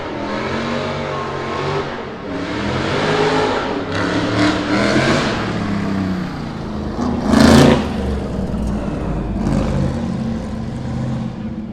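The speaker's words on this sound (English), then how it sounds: "It's a Metro 6R4 6-cylinder rally four-wheel drive." A Metro 6R4 six-cylinder four-wheel-drive rally car revs hard as it climbs the hill at Brooklands Motorsports Day, the engine note rising and surging with a sharp loud peak partway through before easing off.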